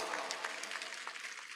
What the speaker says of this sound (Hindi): मुझे एक बार पीछे तक ताली बजा करके हुक्म दें कि मैं ये